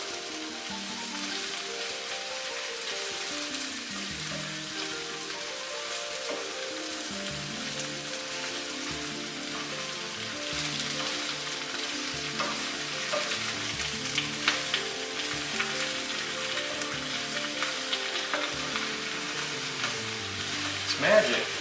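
Onion and garlic sizzle and crackle in a big pot of spicy red sauce while being stirred, a steady close frying hiss with scattered scraping clicks throughout.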